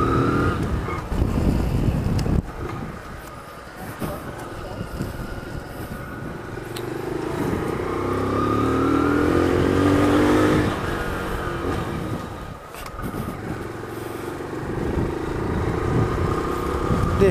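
Freshly rebuilt Honda Pop 100 motorcycle engine running, a steady buzzing idle that rises into a revving surge midway and then settles, heard close without talking.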